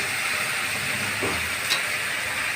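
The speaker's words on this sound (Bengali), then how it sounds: "উচ্ছে ভাজা আমি কড়াইতে দিয়ে দিয়েছি" Bitter gourd, with potato, fries in a kadai wok as a steady, even hiss of oil that stays level throughout, close by and with no voices.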